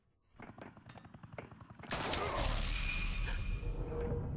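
In Batman: The Telltale Series, faint thuds and voices give way to a sudden loud burst of gunfire that continues as a dense, sustained roar of shots to the end.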